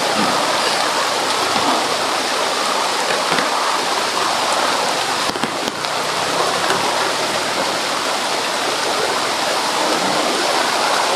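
Heavy storm rain pours down steadily with strong wind, a dense, loud, unbroken hiss of falling water close by, with a brief rattle or knock partway through.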